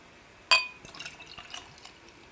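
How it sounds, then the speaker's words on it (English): A glass being set down with a sharp clink, followed by light scattered drips and trickling as Stone Liquid Poem Double IPA beer is poured and spills, heard close and faint. "So yeah, let's get this in the glass."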